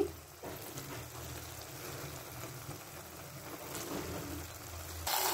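Chicken meat goes into a pan with spices and yogurt, giving a faint, steady sizzle and crackle close by that carries on quietly without speech.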